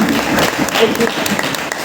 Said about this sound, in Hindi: इसके लिए जोरदार ताली दीजिए